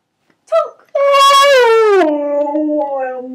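A dog howling on command, giving a short yip and then a long, loud, close howl that wavers and slides down in pitch over a few seconds.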